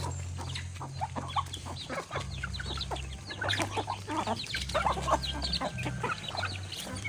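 Native chickens cluck steadily and close by during feeding, a busy overlapping flock chatter with low farmyard hum underneath and no talk.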